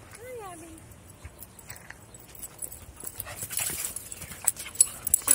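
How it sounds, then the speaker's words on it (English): A dog gives a brief high whimpering whine at the start, then rustling, clattering movement and handling noises build and grow louder. "Yes, you need some attention, don't you? Yes, yes, you're the best dog."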